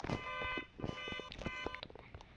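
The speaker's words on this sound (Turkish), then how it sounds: "Bibi korna çalıyor kim ya?" Repeated electronic car horn beeping in a Roblox Brookhaven game, in a steady, harmonic pattern, loud and close, with short bursts and brief gaps between them.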